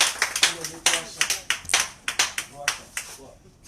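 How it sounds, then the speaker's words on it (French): A church congregation claps in a quick, uneven rhythm during a Sunday service, sharp hand claps repeating close by with voices calling out among them. "Acclame encore Jésus."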